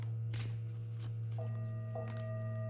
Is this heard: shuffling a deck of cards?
yes